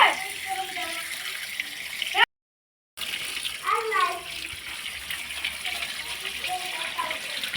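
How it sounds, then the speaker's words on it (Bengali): Snakehead fish being washed under a running tap, with a steady splashing hiss of water that briefly cuts out and then resumes, and faint voices mixed in. "মাছের গায়ে কালো অংশটা দোদরা হয়ে গেছে, এবার পরিষ্কার করে ধুয়ে নেব।"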